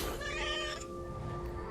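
A cat meows in What Remains of Edith Finch, a single drawn-out, close, fairly loud cry that tails off over a steady game backdrop.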